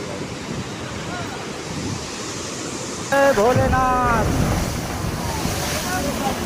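The flooding Sharda river, eroding its banks beside villages in Nighasan tehsil, makes a constant rushing roar with wind noise throughout, while a voice briefly speaks over it midway.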